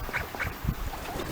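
A New Zealand grey duck quacks in a few short, nasal calls close by, alone over a soft outdoor background.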